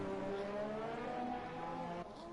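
A Formula 1 car in the F1 2018 game at the Australia round, its engine note steady and loud through a lap, the pitch gliding between shifts as it powers through the final few corners, then dropping and easing off toward the end.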